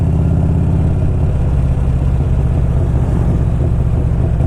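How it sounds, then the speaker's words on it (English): A 1992 Harley-Davidson Electra Glide Sport motorcycle idles close by, its V-twin engine thumping in a steady, loping rhythm that stays even and loud throughout with no revving or speech. "The bike idles pretty well."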